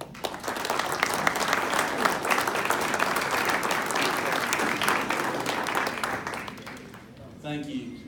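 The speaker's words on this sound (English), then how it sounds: "let's hold the applause till the end" An audience at a legislative event bursts into sustained, dense applause of many hands clapping together, steady and full for several seconds before tapering off near the end.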